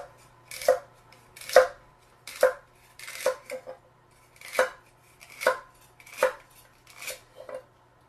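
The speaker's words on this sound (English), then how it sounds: "Now the potato I cut across the top, and then I cut them into not quite, a little bigger than 1/8, not quite 1/4 of an inch" A knife cuts a potato into bite-sized pieces on a board: about ten crisp, close chops in an uneven rhythm, with quiet pauses between strokes.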